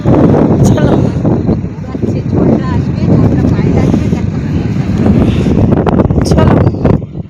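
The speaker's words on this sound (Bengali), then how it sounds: "ভালোই হাওয়ার আওয়াজটা হচ্ছে।" Strong wind roars steadily and loudly past the microphone beside water with rising waves, continuing under people talking.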